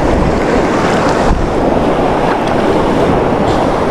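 Waves crashing and churning against rocks in a loud, continuous roar of surf, close by with no voices.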